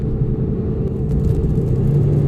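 Volkswagen Jetta GLI Autobahn Edition, a front-wheel-drive car, accelerating with a steady, loud engine rumble and whir heard from inside, no talking.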